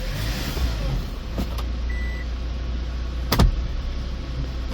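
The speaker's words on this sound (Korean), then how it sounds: "엔진 소음 좋고요" A 2019 Hyundai Porter 2 one-ton super cab diesel truck idles steadily up close, a continuous low engine rumble with a brief louder knock partway through and a faint beep, no voices.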